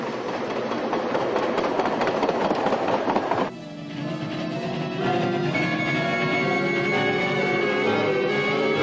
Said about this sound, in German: In Salzburg und Bad Ischl pfeift die liebe kleine Eisenbahn, braucht ein bisschen, faucht ein bisschen